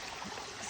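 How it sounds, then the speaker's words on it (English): Water squeezes out of the bottom of a wet deer hide being brain-tanned, wrung tight with a twisted wooden broom-handle stick: a steady, close, hissing trickle and splash with no talking. "see the water squeezing out the bottom of the hide"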